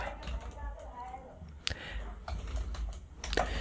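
Typing on a computer keyboard while setting up a local WordPress site, a steady patter of close key clicks with a few sharper strikes, under a voice talking.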